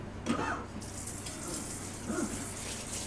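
A sink tap runs steadily with water splashing into the basin, a continuous mid-level wash with a few gurgles, indoors and close, no one speaking.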